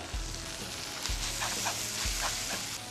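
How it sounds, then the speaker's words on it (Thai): Thin noodles with shrimp and bean sprouts are stir-fried in a hot pan, sizzling steadily up close, with three soft thumps of the spatula at regular intervals. "ก็ผัดจนถั่วงอกเราสุกหน่อยนะครับ"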